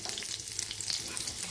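Small shallots sizzling in a pan while cooking mint chutney, a soft continuous crackle with light stirring, close and fairly quiet, with no voice.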